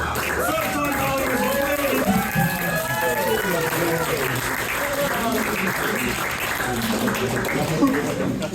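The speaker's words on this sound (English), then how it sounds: "Big round of applause." Crowd at a comedian-versus-comedian roast battle show in Sydney breaks into loud sustained applause with cheering, while voices carry over the clapping throughout.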